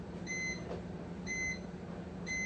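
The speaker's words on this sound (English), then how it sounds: "my timer is about to go off" A kitchen timer goes off while canning, giving three evenly spaced electronic beeps over a low steady background hum.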